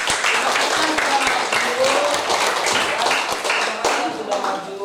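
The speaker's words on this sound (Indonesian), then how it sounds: "Oke, tepuk tangan dulu yuk." A school class of students claps together in a classroom, a dense, steady patter of many hands lasting throughout, fairly loud with a few voices mixed in.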